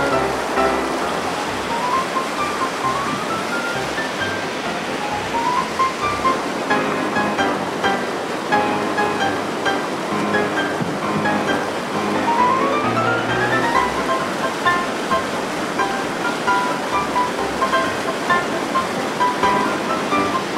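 Whitewater rapids on the Bois Brule River in northern Wisconsin rush steadily and loudly over boulders and drops, a dense, continuous roar of water with no voices.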